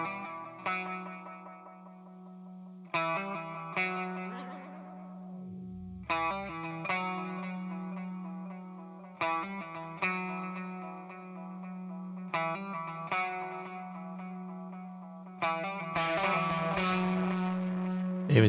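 Guitar chords through a delay effect pushed into distortion in a home studio, repeated sustained gritty strums with echoing tails, the last one harsher and buzzier, no talk.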